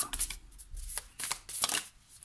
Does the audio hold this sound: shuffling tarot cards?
yes